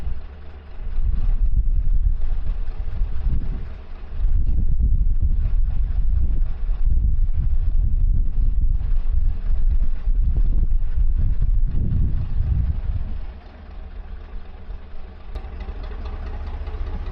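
Strong wind buffets the microphone on a canal, a loud, rumbling roar in long gusts that eases briefly, with a low engine hum underneath.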